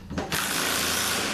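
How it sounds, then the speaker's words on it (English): A ratchet loosening bolts on an E4OD transmission valve body, a brief sharp mechanical burst of rapid clicking that starts abruptly and then continues as a dense, close clatter. "I'm gonna take these 2 bolts out"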